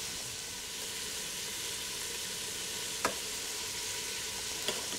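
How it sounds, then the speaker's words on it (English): Vegetables sweating in a pan over medium-low heat for potage Ambassadeur, a soft continuous sizzle and hiss, close and even, with two faint clicks of a utensil against the pan, no talk. "sweat those vegetables or cook them on low heat without browning"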